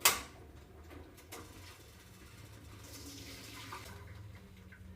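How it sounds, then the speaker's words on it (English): Cooked spaghetti drained of its pasta water in a kitchen: a sharp clank opens a steady, rushing wash of pouring water that stays even and fairly quiet, with no voices. "I'm drain the pasta."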